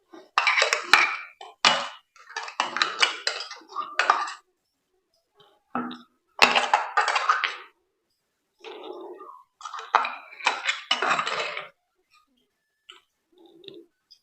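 Spinach paste is scraped from a mixing jar into a bowl, giving bursts of clinking and scraping of utensil against jar and bowl, close by and moderately loud, in several clusters separated by short pauses.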